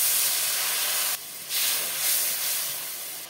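Water poured into fried spice paste with tomato and salt for a fish curry hisses and sizzles loudly in the hot pan, a bright steady sputter that dips briefly before rising again.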